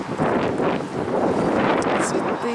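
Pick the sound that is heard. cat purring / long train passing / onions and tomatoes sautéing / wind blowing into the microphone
wind blowing into the microphone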